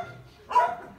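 A single short dog bark, fairly close, rising out of a quiet low background hum.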